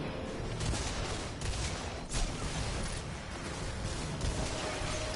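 Continuous gunfire in the shooter game Destiny, dense rapid shots blending into a steady loud barrage for the whole stretch, with no talking over it.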